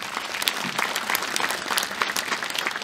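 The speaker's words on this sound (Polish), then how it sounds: "Jeszcze raz wielkie brawa." A concert audience gives a short burst of loud, thick clapping after a military orchestra's number at a mining company orchestra's 75th anniversary concert, fairly steady throughout.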